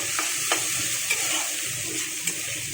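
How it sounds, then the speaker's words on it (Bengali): Fish frying in a pan for poi bhitoli, a steady close sizzle with a few light scraping stirs and no talk. "এখন আমি মাছটাকে সুন্দর করে ভেজে নেব।"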